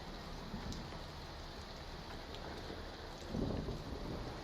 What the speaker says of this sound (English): Thunder reverberates, punctuating the rhythm of the downpour.